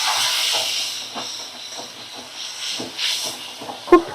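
Warm water poured into a hot cooking pan, giving a steady broad hiss that swells and fades over a few seconds, with a couple of small clinks near the end.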